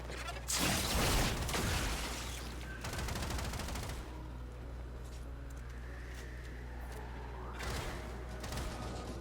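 Gunfire in the video game Warframe: several loud bursts of shots, the first and heaviest near the start, separated by quieter stretches of mechanical game noise and a steady low hum.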